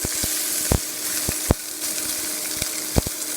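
Cumin, black pepper, three dried red chillies and coriander roast in a pan over a medium flame for thuthuvalai rasam, with a steady close sizzle broken by several sharp scraping stirs and knocks.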